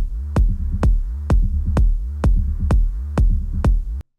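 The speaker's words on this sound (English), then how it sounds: "So the kick will create a sizzle" Techno kick drum with a sidechained sizzle layer in expand mode: nine steady, punchy kicks at an even four-on-the-floor pace, each followed by a brief swelling hiss, alone with no talking.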